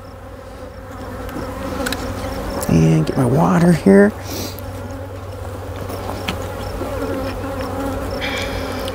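A steady honey bee drone hums throughout, with a louder burst of buzzing partway in; a person speaks briefly over it.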